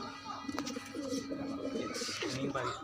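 Domestic pigeons kept in a breeding coop, a close, soft, repeated throaty cooing in a steady rhythmic pattern.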